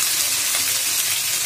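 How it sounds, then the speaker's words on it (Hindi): Crushed garlic and ginger hit hot oil for veg Manchurian, giving a loud, close, steady sizzle and hiss of frying that runs without a break. "तेल गर्म हो चुका है, अब इसमें हम डालेंगे इसमें लहसुन कूटा हुआ, अब अदरक को भी साथ में डाल देंगे"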